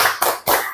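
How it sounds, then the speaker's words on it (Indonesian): Three quick claps from a group giving a cheer for Bu Sugi, sharp and close together in a short burst. "tepuk hebat untuk Bu Sugi"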